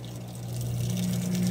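Water steadily filling a lidded container close to overflowing: a continuous rushing flow over a low steady hum, loud, near and swelling slightly, with no voices.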